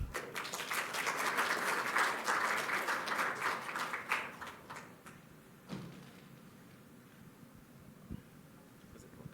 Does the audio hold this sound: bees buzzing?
no